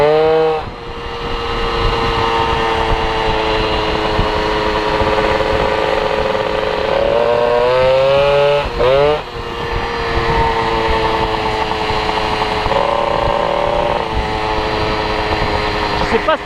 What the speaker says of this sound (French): le bruit de mon pot il change